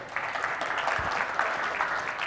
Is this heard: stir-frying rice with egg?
no